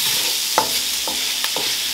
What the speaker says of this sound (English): I see the broccoli, not the broccoli, but the garlic getting a little brown.